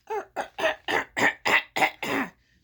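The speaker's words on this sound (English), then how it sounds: "gotta clear my throat" A person clears their throat repeatedly, about eight harsh, evenly spaced bursts close to the microphone, with short gaps between them.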